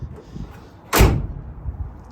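The bed drawer system on a 2017 Ram 1500 pickup rolls out and stops with one sharp thud close by, against a quiet background.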